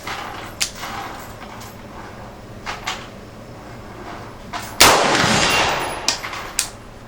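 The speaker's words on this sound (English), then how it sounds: "I am shooting at steel out there, or steel plates." Outdoor shots at a range ring against a steel plate target: faint distant clanks early on, then one loud close gunshot with a long ringing tail, followed by a few smaller metallic clicks.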